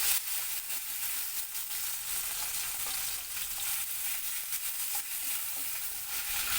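Delicate fish frying in mustard oil in a wok, a continuous crackling sizzle at moderate volume with scattered small pops and no voices.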